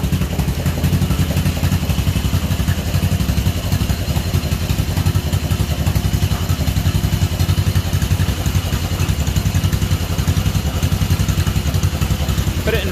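A John Deere M tractor engine runs steadily in first gear, a loud continuous close chugging with clattering mechanical noise throughout and speech mixed in.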